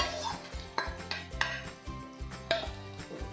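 Prepared masala paste goes into a pan for a spicy Hyderabadi dum aloo potato curry, with a spoon scraping and clinking against the pan over a faint, soft sizzle.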